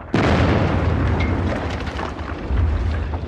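Heavy artillery barrage during a wartime battle, a sudden loud boom followed by rumbling blasts that roll on continuously, with a second swell of explosions near the end.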